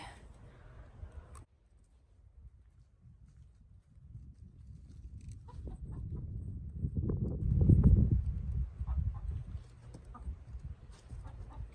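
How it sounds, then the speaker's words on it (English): A chicken being chased outdoors, clucking and scuffling in a low, rustling flurry that builds to a louder burst midway before settling, with faint movement noise throughout. "We got one last chicken to get."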